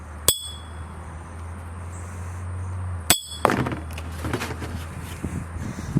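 A tungsten bracelet tip strikes a glass Sprite bottle: two sharp glassy clinks about three seconds apart, the second followed by rattling and clattering handling sounds over a steady low background hum.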